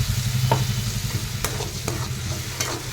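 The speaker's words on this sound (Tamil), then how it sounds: "தக்காளி கொதிக்குது." Tomato puree bubbles and sizzles steadily in a pan with sautéed onions, with a few sharp clinks of a utensil stirring against the metal.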